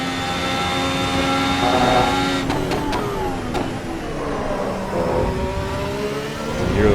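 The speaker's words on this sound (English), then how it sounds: "Hear those front tires scrubbing there." Ferrari SF 25 Formula 1 car in the AC EVO sim racing game, its engine whining loudly through gear changes while the front tires scrub and squeal in a corner, no talk.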